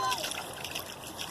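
Rainwater rushing through a yard after a downpour, a brief splashing, gurgling flow heard close by.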